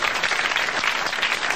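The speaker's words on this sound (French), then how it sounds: "vous l'applaudissez très fort" Loud, dense applause from a live radio show audience, continuous and close, filling the whole short stretch without pause.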